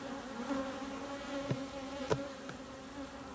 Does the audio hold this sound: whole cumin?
no